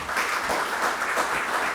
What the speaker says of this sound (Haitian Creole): Applaudissez-vous pour ça.